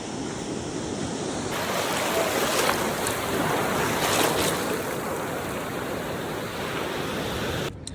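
Sea waves at Talsari beach in Odisha roar in a steady, loud wash of surf that swells and recedes across the stretch, with wind noise mixed in and no voices.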